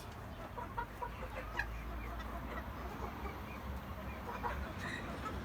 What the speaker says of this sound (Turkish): Üst tarafta ispençlerimiz var. Çok güzel hayvanlar.